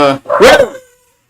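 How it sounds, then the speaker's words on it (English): A dog gives one loud, close bark that trails off into a brief yelp, then quiet. "Now you got Marshall barking, Rue. Damn dog."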